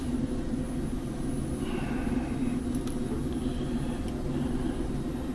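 A Mi-24P Hind attack helicopter taxiing on the ground in DCS World, a steady close rotor and turbine rumble with a faint high whine, droning evenly and without pause.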